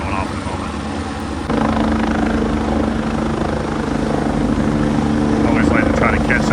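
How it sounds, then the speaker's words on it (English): A helicopter flies overhead, its steady rotor thump and engine roar loud and continuous, swelling slightly as it passes, with a voice talking over it. "see if we can catch this chopper going off in a moment"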